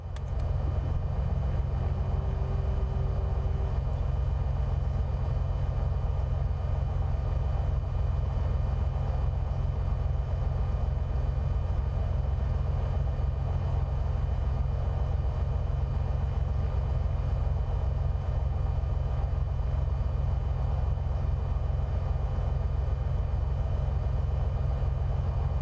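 A steady, droning aircraft engine idles after startup in Microsoft Flight Simulator 2024, a loud, even hum with a low rumble that holds constant throughout.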